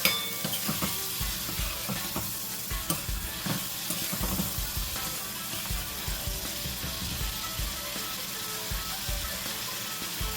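Prawns fry on a high flame in a pan for Thai green curry, seasoned with black pepper. They give a steady, close sizzle with scattered crackles and light scraping from stirring.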